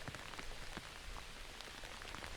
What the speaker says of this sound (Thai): จุดนี้ก็จะเห็นที่ว่าฝนตกโอ้ฝนตกหนักเลย